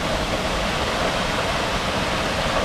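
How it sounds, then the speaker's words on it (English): A waterfall of about 70 or 80 feet, broken by a rock feature, roars as a loud, steady, close rush of water with no other sound. "This has got to be a 70 or 80 foot waterfall, broken up by that beautiful rock feature down below."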